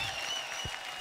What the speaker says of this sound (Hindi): जोरदार तालियां हो जाए जबरदस्त एक्ट के लिए।